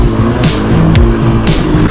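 Motocross bike revving at full throttle, a loud close buzzing engine whose pitch climbs and drops through gear changes across two seconds, with no talking.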